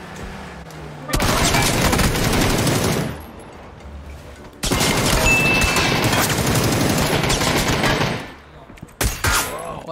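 Bursts of rapid automatic gunfire from a house in PUBG ring out loud and close in two long volleys, with a short final burst near the end and quieter gaps between them.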